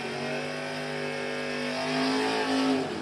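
A drag racing car engine at a dragster event runs loud and steady, its pitch climbing slightly toward the end, with no talk over it.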